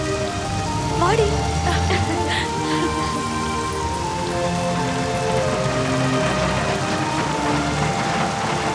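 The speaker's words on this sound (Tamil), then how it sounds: "மழை பயங்கரமா பெய்யுது." Heavy rain pours steadily outside a moving bus, a dense hiss under the low drone of the engine and occasional voices.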